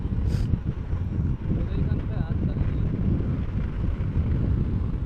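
An Okinawa Praise Pro electric scooter running at speed in its second mode, with steady low wind rush and road roar throughout and a rider speaking over it.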